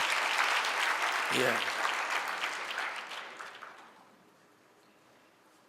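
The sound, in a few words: church congregation applause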